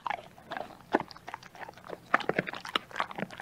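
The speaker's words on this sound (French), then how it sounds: "C'est le chien qui mordille ses jouets en bois." Steady gnawing and crunching nearby from a dog chewing wooden toys, with irregular clicks and snaps like teeth working on something hard, continuing throughout.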